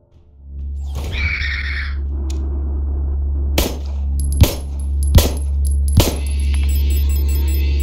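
Shotgun blasts in a video game: four sharp, loud reports spaced about a second apart, each decaying quickly over a low steady background hum, with some clattering beforehand.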